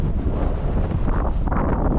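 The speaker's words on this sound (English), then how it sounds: "the wind is so strong" Strong wind blowing on a mountain in Sri Lanka, a loud, steady roar buffeting the microphone without pause.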